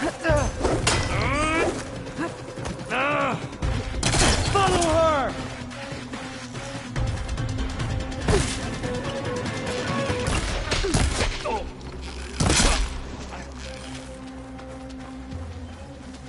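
Gunfire bursts and impacts from the Horizon Forbidden West action game, loud and close, mixed with whooshes and machine sounds under shouting voices.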